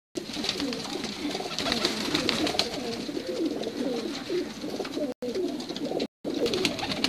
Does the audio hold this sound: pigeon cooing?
yes